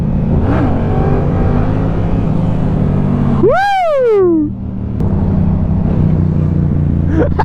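Loud, close engine of a Yamaha R7 motorcycle during a wheelie, a steady drone that shoots into one sharp high rev before dropping back to a steady run.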